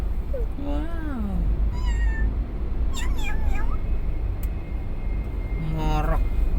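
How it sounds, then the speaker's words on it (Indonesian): A cat meows several times, rising and falling wails close by over a constant low rumble, with voices speaking alongside. "Ada kucing? Kucing meong-meong"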